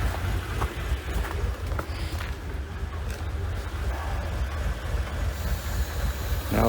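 A Mercedes car engine with a purge valve fault idles unevenly, a continuous low rumble with slight irregular fluctuations and faint hiss.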